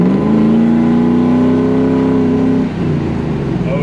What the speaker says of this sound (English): Hear the exhaust one time.